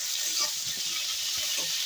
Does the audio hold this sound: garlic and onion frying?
yes